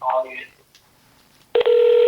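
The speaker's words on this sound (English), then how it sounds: "Now I hear ringing." A brief electronic tone sounds, then after a short pause a steady telephone ring tone starts and holds, close and clear.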